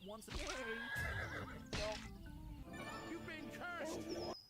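Horse neighing loudly in a horror video game, with a clip-clop of hooves, heard under ongoing speech.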